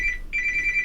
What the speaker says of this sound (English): Oh, and that's my phone ringing.